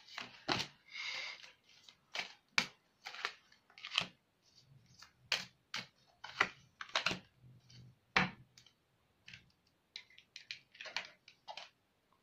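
Tarot cards being pulled and shuffled, giving a run of soft, quick papery flicks and taps in irregular bursts, close and fairly quiet with no talking.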